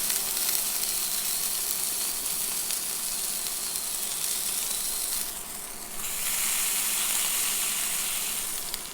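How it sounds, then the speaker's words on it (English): Lamb fat pressed against a hot pan crisps with a steady, loud sizzle: a bright, hissing crackle running throughout, briefly dipping and then swelling again as the meat is pressed down. "So just apply a little bit of pressure just to ensure that the fat is in contact with the base of the pan."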